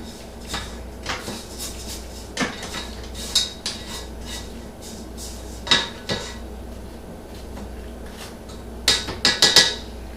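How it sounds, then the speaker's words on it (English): A spatula scrapes down a mixing bowl of vegan lemon pound cake batter, giving scattered clinks and scrapes against the bowl over a steady low background hum, with a cluster of sharper knocks near the end. "gonna scrape down the bowl"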